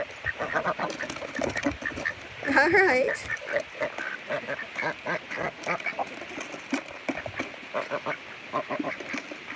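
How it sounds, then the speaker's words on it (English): Farm ducks, including a green-headed drake, quack repeatedly while being fed on a rural South Dakota farm, with a louder burst of close quacking in the middle and someone talking over the birds throughout. "The ducks are also tall enough to eat like this."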